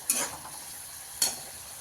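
Onion-tomato masala roasts quietly in a pan for an egg curry, a faint soft sizzle broken by two sharp scrapes of a spoon.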